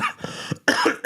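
A man gives a short, harsh cough in two bursts, the second louder and more forceful, close to the microphone.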